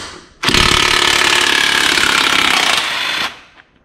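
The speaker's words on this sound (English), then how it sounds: "I'll use the impact to break this loose" An impact wrench breaks loose the rear axle nut on a Suzuki GS500F motorcycle, a loud, close, continuous hammering rattle lasting about three seconds before cutting off.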